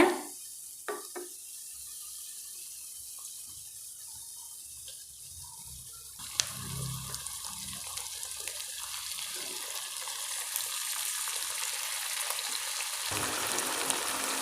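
Chicken pieces drop into a hot pan for chicken ghee roast, setting off a loud, steady sizzle that swells after a quiet start and keeps crackling evenly to the end, with no voices.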